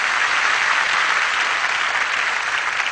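A theatre audience at a live comedy and poetry show breaks into dense, even applause, a steady wash of many hands clapping without pause for the whole stretch.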